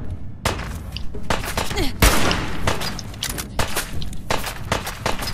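Hunting rifle gunfire in Fallout 4, with several loud sharp shots and thuds spaced irregularly over continuous background game noise.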